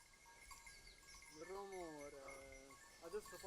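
A human voice imitates a goat bleating, a wavering, quavering call of about a second and a half, followed by a shorter bleat-like burst, heard fairly close over quiet background.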